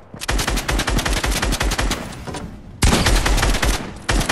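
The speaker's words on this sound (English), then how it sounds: "Daniel's just over here shooting at me." Sustained bursts of gunfire in a Fortnite match, rapid loud shots in dense automatic strings with a short pause before another heavy volley; no talking.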